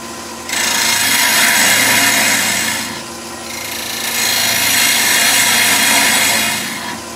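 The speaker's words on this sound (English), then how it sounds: "So a little quarter inch bowl gouge again. Let's get our lathe speed up there to 1800." A wood lathe spinning at about 1800 rpm while a quarter-inch bowl gouge cuts a wooden tealight holder, giving a steady, loud scraping hiss in two long sustained passes with a short pause between them.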